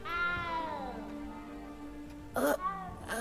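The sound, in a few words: cat meowing, from video game Hogwarts Legacy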